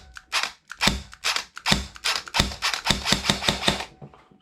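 A Nuprol airsoft gun firing inconsistently: a string of sharp, close snapping shots with uneven gaps, some trigger pulls giving only faint clicks, loud and alone without talk.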